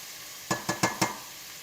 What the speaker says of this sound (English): I tell you about a good sauteed onion.